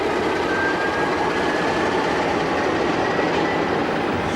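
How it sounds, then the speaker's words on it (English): A Portuguese 1551 class locomotive hauls a sand freight train, its steady loud rumble of wheels and engine running continuously close by with no voices. "The 1551 class of locomotive represents an updated version of the older 1500s."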